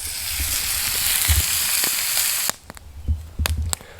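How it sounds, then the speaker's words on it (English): A steak searing in a pan over a campfire, a loud steady sizzle and hiss that breaks off into scattered pops and crackles. "you can have a deep fryer on one side and a nice place to sear your steak on the other"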